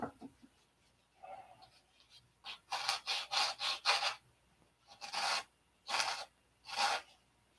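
A sanding stick rasps across a balsa wing part in a series of short, close strokes, about eight bursts grouped in runs with brief pauses between them. No one talks over the sanding.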